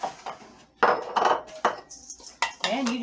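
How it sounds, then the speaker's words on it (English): A spoon scrapes and clinks against a bowl while butter, flour, baking soda, brown sugar and oats are mixed into a crumble for a cranberry crisp, in irregular bursts with short pauses. "And you just kind of mix it together to make a crumble"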